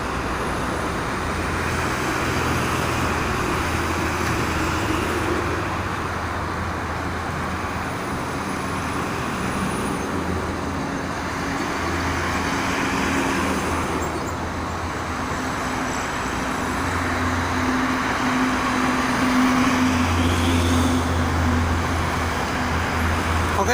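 Continuous roadway roar from the Jakarta–Cikampek toll road, with freight trucks and cars rushing past, rising and falling swells of engine and tire noise, heavy vehicles droning nearby.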